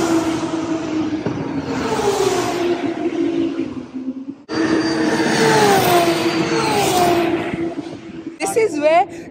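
A car drives on the F1 race track in Abu Dhabi with a steady, loud rumble of engine and road noise inside the cabin. The sound breaks briefly in the middle and rises in pitch at times, with voices talking over it.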